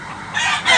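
Claret gamecock rooster at Tabunok, Cebu, crowing loudly and close in one brief, harsh, sustained call.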